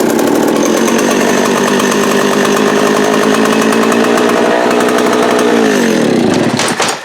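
A vintage metal Echo 60V chainsaw with high compression and a heavy flywheel runs loud and steady close by, its engine note holding before dropping off as it winds down near the end.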